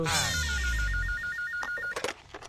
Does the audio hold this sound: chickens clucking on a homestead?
no